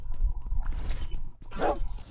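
A dog barks in the video game Metro Royale, giving a short yelp and a couple of brief whimpering barks over a low game rumble.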